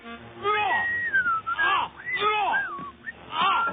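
Sliding, wavering whistled tones rise and fall in short melodic phrases, fairly close and steady, with a few voice-like sounds mixed in, from a boy whistling in a period cartoon episode.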